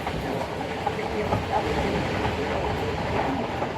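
The Karakorum Express rolls along the tracks between Kot Radha Kishan and Changa Manga in Pakistan, giving a steady, loud rumble with faint clatter heard from on board. Someone talks over the noise.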